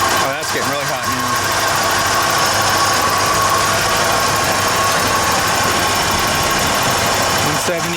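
A Ford Bullnose truck engine runs steadily while warming up, a loud continuous mid-pitched drone with a faint clanky edge, close by and uninterrupted.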